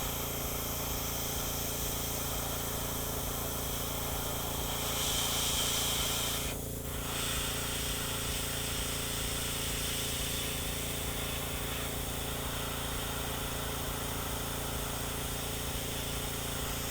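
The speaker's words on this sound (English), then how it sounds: "Part of the trick is drying it with the airbrush, the quick dry." An airbrush blows air to quick-dry paint on a Raven Guard Gravis miniature, giving a steady close hiss that holds throughout, with a brief louder burst midway.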